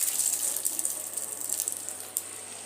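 Sweets sizzle in very hot oil, flame on high: a steady, fairly loud hiss and crackle with small bursts of bubbling, no voices.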